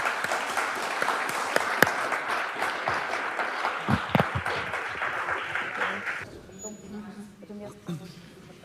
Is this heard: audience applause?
yes